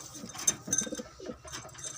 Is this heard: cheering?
no